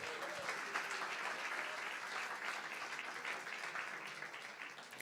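A church congregation applauds during a Spanish-language sermon, a dense, steady wash of many hands clapping at once that holds loud and even for the whole stretch, fading only slightly at the end.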